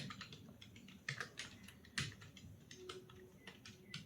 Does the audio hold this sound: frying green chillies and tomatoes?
no